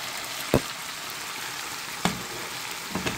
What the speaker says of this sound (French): Je vais venir rajouter un oignon violet et un oignon blanc ainsi que la moitié de mon petit paprika, poivron vert, à l'intérieur